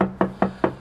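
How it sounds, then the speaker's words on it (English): Knocking on the front door of a rented house, five firm evenly spaced raps about a fifth of a second apart, close and loud with no talk. "I'm just gonna have a knock on the front door"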